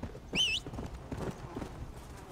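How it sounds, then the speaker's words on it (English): Horse hooves clop in the video game Red Dead Redemption as a horse approaches, brief soft thuds spread over a couple of seconds, with a short whinny near the start. "I hope that I still have my horse, War"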